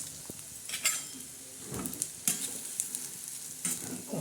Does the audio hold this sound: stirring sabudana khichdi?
yes